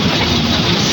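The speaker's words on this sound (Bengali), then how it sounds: "আর এই একটা টয় ট্রেন।" A toy train ride at Howrah Rail Museum, a loud continuous rumble of running wheels and carriage heard from on board, steady and close with no pauses.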